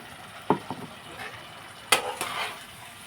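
Spices being stir-fried with pasted tomato in a pan, a soft low sizzle broken by two sharper scraping strokes of a utensil against the pan, fairly close.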